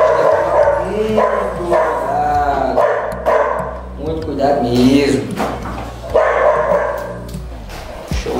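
A female dog biting at a small tire during handling of an aggressive dog barks and yips in short bursts close by, mixed with steady talk from a man throughout.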